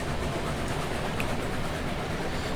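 A Cook Mogul steam locomotive rolls along in Railroads Online, giving a steady, continuous rumble and rail noise at an even level with no speech.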